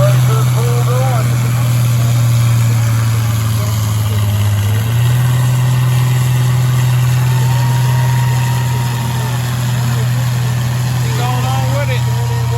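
A tractor engine roars loud and continuous at a truck and tractor pull in Orange County, Virginia, with a steady low drone that shifts pitch midway, while someone talks nearby.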